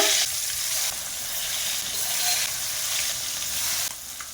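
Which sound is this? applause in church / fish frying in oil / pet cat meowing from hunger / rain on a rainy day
fish frying in oil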